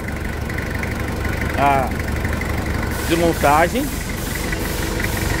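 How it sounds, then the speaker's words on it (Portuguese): A reassembled Toyota SW4 engine idles steadily in a workshop, a continuous mid-level running drone with talk over it at two points. "mostrando pra vocês aqui o motor montado novamente"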